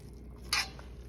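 A spoon scraping and stirring bulgur wheat with kidney beans in a pot, one brief clink-like scrape standing out over a quiet background, no voices.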